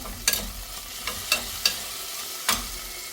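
Curry leaves crackle and sizzle in hot oil for a roasted-coconut mutton curry, with a steady close frying hiss broken by four or five sharp spatters and pops.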